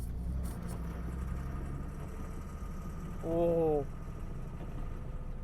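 A damaged Mustang engine runs rough while the car drives, a steady mechanical rumble with rattling and jiggling throughout, briefly swelling near the end, with a short spoken exclamation.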